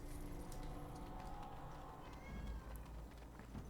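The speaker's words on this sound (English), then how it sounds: "Cat's crying." A cat cries with faint meows in Dragon Age: Origins, heard under a constant low hum of game ambience and soft footsteps.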